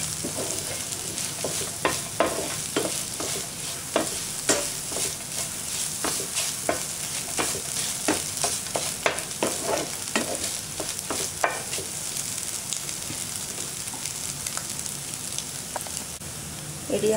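Beaten egg scrambles in a hot frying pan for egg idiyappam, giving a steady sizzle broken by repeated scraping strokes of a spatula in an even stirring rhythm, close and fairly loud.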